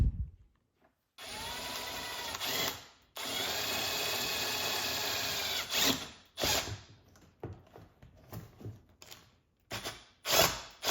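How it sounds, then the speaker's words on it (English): A power drill drills a hole for Ford Performance hood struts, whirring in two long sustained bursts, then stopping and starting in short, choppy spurts, fairly close and loud. "So I'm gonna take this and drill my hole right here."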